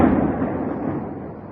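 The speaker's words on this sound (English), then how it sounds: "An explosion, a flash," A deep, loud explosion in Moscow rumbles and decays over a second or so, a broad low roar fading gradually with no voices.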